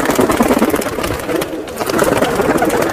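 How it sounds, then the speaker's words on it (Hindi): Border breed pigeons in a pet shop coo in overlapping, throaty murmurs, a dense flock close by with continuous soft rumbling calls. "ये देखो दोस्तों, सब बॉर्डर वाले कबूतर, नर मादी सब मिक्स है।"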